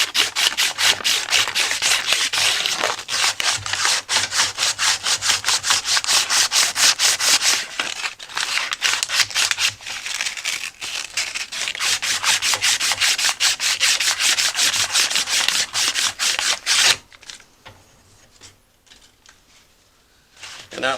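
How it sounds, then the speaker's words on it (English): Sandpaper rubs back and forth on a self-propelled lawnmower drive wheel part in rapid, rhythmic, close scratchy strokes that run steadily for about seventeen seconds before stopping into near quiet. "If you don't have sandpaper, use a little wire brush or something."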